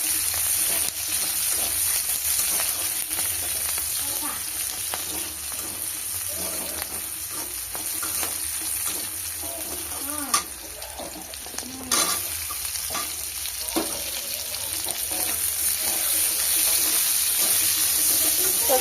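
Chili, garlic and ginger fry in a pan with a steady, close sizzle, broken by repeated scraping stir strokes and a couple of louder knocks midway.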